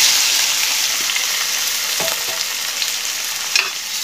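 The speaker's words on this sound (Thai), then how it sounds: "เมื่อพริกกับกระเทียมได้แล้วเราใส่กุ้งลงไปเลยนะครับ" Shrimp stir-fried with chili and garlic over high heat for a basil stir-fry sizzle loudly and steadily, with a few light clinks and scrapes of the spatula near the end, close up with no speech.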